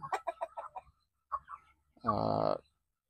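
Ulikba breeder chickens cluck on a farm in a short run of quick, close, fairly loud calls, then a longer drawn-out squawk, with pauses between.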